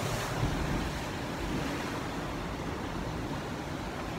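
Ocean surf rushes continuously along the shore in a broad, steady wash of noise, close and moderately loud, with wind buffeting the microphone and no voices.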